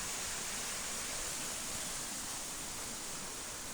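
Creek water rushing hard after a flash flood, a loud, steady broadband roar of churning current with no breaks, close by and alone.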